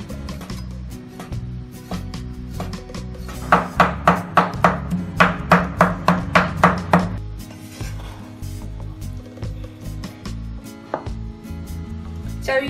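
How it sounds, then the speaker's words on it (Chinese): Rapid rhythmic knife chopping of sliced meat into mince on a cutting board, a steady run of about a dozen crisp thuds in the middle, with kitchen background noise before and after. "再来切点肉末"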